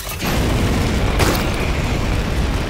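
Weapons firing and exploding in Warhammer 40k: Chaos Gate - Daemonhunters: a sudden loud boom starts a continuous, heavy rumble of blasts, with another burst about a second later, all close and dense.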